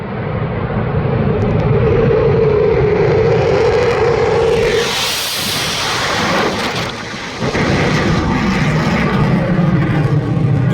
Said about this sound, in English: This Eurofighter coming straight at the person filming,